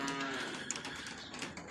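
Cattle on a farm mooing, low drawn-out calls close by in a single continuous stretch with no talk.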